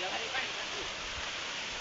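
Waterfall at the foot of Kalapata hill, falling from about 200 feet, a faint, steady rushing wash of water with a voice speaking briefly over it.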